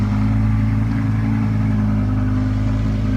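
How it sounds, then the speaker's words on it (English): A car engine idles and rumbles steadily at close range while a car is backed out at an Italian sports car gathering, with a low continuous drone and no speech. "She's just got to back a car out."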